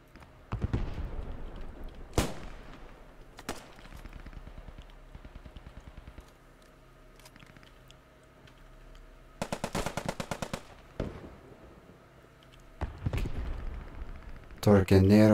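Bursts of automatic gunfire and single shots ring out during a competitive PlayStation first-person shooter ladder match, clustered in several loud volleys spread across the span, with a commentator talking over the action.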